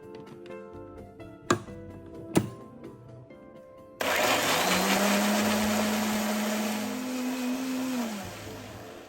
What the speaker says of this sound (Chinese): 姜葱蒜尽量搅拌的细致一些